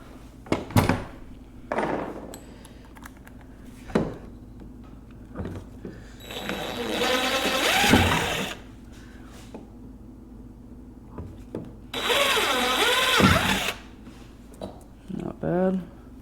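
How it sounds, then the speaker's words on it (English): A power drill whirs in two bursts while drilling a pilot hole, each a few seconds of revving motor, separated by clicks, handling noises and brief talking. "I'm gonna actually drill a pilot hole first"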